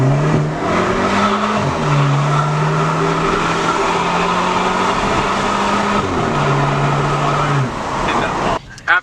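A car, apparently a modified MK7 Golf, revs hard through a steady engine drone with rising and falling pitch steps as the tires spin and skid, loud and close, with voices talking over it.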